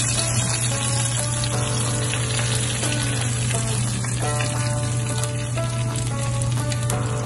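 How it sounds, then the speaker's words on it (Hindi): Golden brown fried onion tadka poured into a pot of haleem, giving a steady, loud sizzle with bubbling, watery crackle over a constant low hum, continuous throughout with no talking. "ये तड़का हमारा लग चुका है।"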